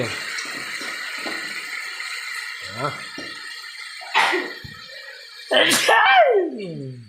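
A man cooking in a kitchen lets out a loud, sharp sneeze near the end, after quieter sniffs and throat sounds, with cooking noise and a steady background hum throughout.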